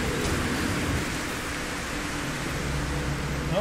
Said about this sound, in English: Superheated rain.